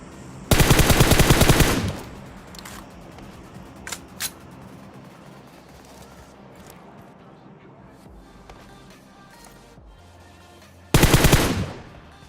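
AK rifle fire in the PUBG battle game erupts in two loud, rapid automatic bursts, each lasting over a second, with scattered single shots and game ambience between them.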